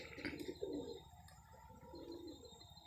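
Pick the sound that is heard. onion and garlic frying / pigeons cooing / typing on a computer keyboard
pigeons cooing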